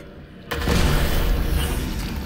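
A grenade in Half-Life: Alyx goes off with a sudden loud boom after a quiet moment, and the blast rolls on as a broad, sustained rumble that slowly decays.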